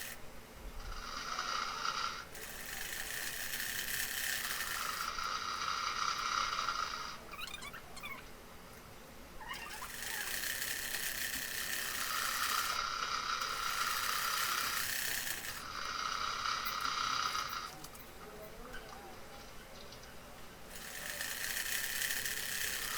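A sewing machine runs a seam on a Naira-cut dress in several rapid mechanical bursts of a few seconds each, separated by short pauses, close and fairly loud.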